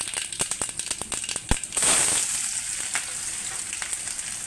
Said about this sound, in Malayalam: ചെറിയ ഉള്ളി ചേർത്ത് അതും ഒന്ന് നന്നായി മൂത്ത് വരട്ടെ